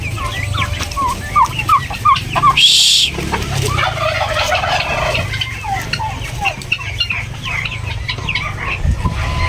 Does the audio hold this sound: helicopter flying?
no